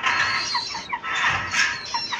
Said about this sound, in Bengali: পাশে মুরগি আছে, দেশি মুরগি একটা আছে